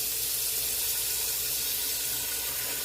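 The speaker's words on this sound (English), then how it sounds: "I'm just rinsing off the starch" Tap water runs steadily into a kitchen sink, rinsing starch off cooked fettuccine noodles in a colander, a continuous broadband splashing hiss with no talk.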